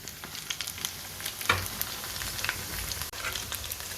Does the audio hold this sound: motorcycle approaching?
no